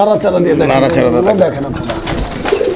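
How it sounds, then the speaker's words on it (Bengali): Stone-eyed fancy pigeons coo in a pet bird market, steady throaty warbling close by, with people talking over the birds throughout. "দোনোটাই পাথর চোখের কবুতর"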